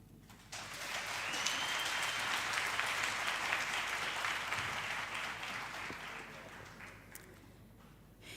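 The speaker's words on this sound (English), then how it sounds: "May we give Mr. Sisanda Dlamini another round of applause" Audience applause at a university campus community safety programme event, a steady wash of clapping that starts abruptly after a brief pause and holds fairly evenly for about eight seconds before thinning out near the end.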